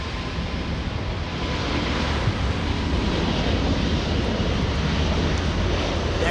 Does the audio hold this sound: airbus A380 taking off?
yes